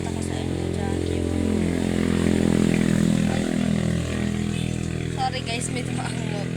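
A motorcycle passes close by outside a nipa hut, its engine drone steady and loud for several seconds, swelling and fading slightly with no speech over it.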